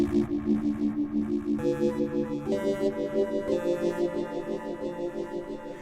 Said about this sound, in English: I've changed the feedback on the echo device. I've ducked the echo device.